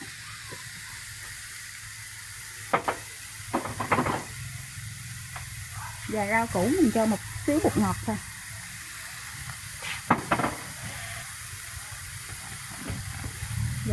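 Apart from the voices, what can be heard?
stir-frying vegetarian porridge mixture in pot, sizzling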